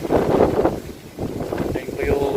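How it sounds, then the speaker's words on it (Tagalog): Strong, cold wind buffets the microphone at a campsite, a steady broadband rush that rises and falls in gusts, with people talking through it. "malakas ang hangin"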